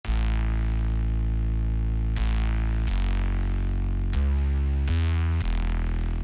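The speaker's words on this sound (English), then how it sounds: "Then this sick bass line, which is gluing all of them together." A heavy, distorted, compressed synth bass line for melodic drum and bass plays a handful of long sustained notes with sharp changes, loud and alone.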